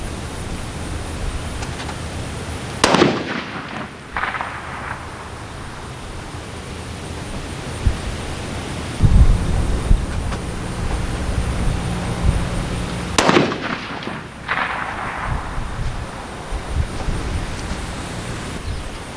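Two sharp 350 Legend rifle shots fired at a 200-yard target, each a loud crack followed by a short echo, spaced about ten seconds apart over quiet outdoor background noise.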